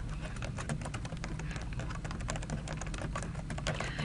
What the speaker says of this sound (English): You type in the actual new department name.